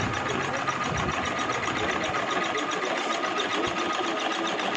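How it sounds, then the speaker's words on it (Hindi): A home sewing machine stitching cloth, a steady fast mechanical whir and rapid needle clatter running unbroken and loud throughout. "ना इसके ऊपर बैठ गई हैं मशीन पे। ये सिलाइयाँ चल रही हैं इनकी।"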